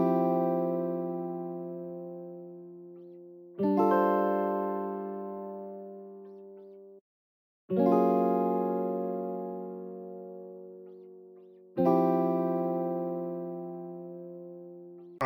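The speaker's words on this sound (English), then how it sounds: "this is the guitar from the DreamFlux kit" A guitar sample from the DreamFlux kit plays four sustained strummed chords, each ringing out and decaying slowly before the next, in a Nintendo-style beat with no voices.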